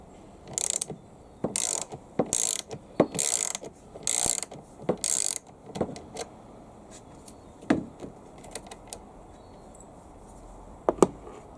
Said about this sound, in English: Loosen the nut on the terminal you wish to remove.